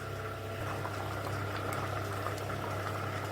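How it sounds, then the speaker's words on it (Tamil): Kuruma curry with ground coconut and poppy seeds boils in a pot, giving a steady close bubbling and simmering hiss with no talk. "2 நிமிஷம் கொதிக்கட்டும்."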